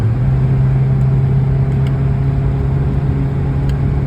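A Mitsuoka Viewt cruises downhill at about 60 mph, its cabin filled with a steady, fairly quiet low road-and-engine drone that holds level throughout, with faint ticks above it.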